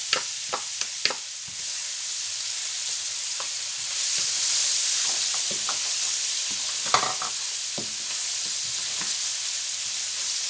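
Shallots sizzle in a hot pan with garlic and ginger, a steady frying hiss broken by several sharp clacks and scrapes of stirring, with no one speaking.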